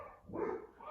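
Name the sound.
Labradoodle dog barking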